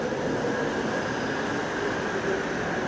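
A metro train running along open elevated tracks, a steady broadband rumble and hiss holding even and fairly close throughout with no voices.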